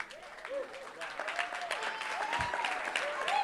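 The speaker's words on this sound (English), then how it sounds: "Yeah, a little clap." A church congregation applauds its worship team, a fairly soft wash of scattered clapping that swells gradually, with voices talking and calling out over it.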